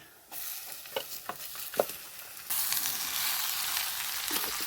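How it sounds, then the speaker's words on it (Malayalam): Marinated chicken, coated with salt, turmeric and pepper, is tipped into a pan of frying shallots and dried red chillies for chicken varattiyathu, giving a few clinks and scrapes before a sudden, steady, louder sizzle takes over. "കുഴച്ച ചിക്കനിക്ക് ഇട്ട് കൊടുക്കാം കേട്ടോ"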